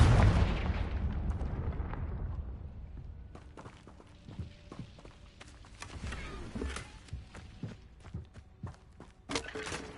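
A Confringo blast spell explodes in Hogwarts Legacy: one loud, booming burst that rumbles and fades over a couple of seconds, followed by scattered crackling debris and light footsteps.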